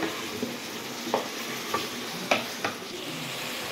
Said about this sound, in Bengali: বিরিয়ানির মাংসটা কষিয়ে নিচ্ছি, আজকে মটন বিরিয়ানি হবে।